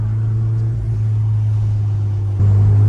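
Race car driven hard around a track during a track day, a loud steady engine drone holding close with a step up in power near the end.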